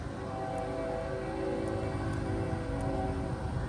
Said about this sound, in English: that train's really loud.